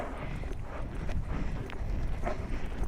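A horse loping a circle under a rider in a training arena, with a steady, fairly close rhythm of muffled hoof beats over soft ground.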